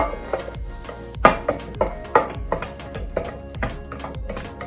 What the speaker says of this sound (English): I'm just going to mix that all together